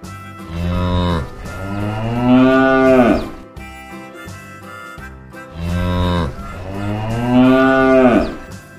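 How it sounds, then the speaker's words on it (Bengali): Two long, loud mooing calls from cattle, a cow and calf, each drawn out for about two to three seconds with a quieter gap between them, close to the listener. "গরু বাছুর দাঁড়িয়ে আছে।"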